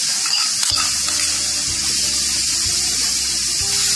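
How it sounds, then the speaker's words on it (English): Cabbage, capsicum, cauliflower and carrot frying on high flame, a loud, steady hiss of sizzling with occasional low knocks from stirring, close and continuous. "Now let your vegetables cook for about 2 minutes."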